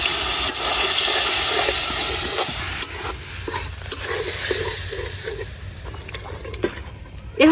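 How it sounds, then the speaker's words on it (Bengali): Spice paste for beef tripe bhuna sizzles in a pan after water is added. A loud, steady frying hiss runs throughout, broken by scraping stirs and occasional sharp clicks of a spoon against the pan. "এখন পানি দিয়ে মশলাটা কষাই নিলাম"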